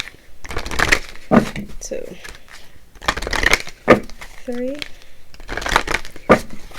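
A tarot deck is shuffled repeatedly in short, rhythmic bursts of crisp riffling close by, with a voice counting aloud between the shuffles.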